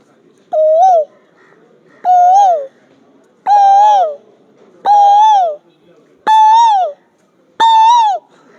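A man imitates the Asian koel's call with his voice, six evenly spaced, loud, clear whistled hoots, each rising slightly in pitch across the sequence, with near silence between them.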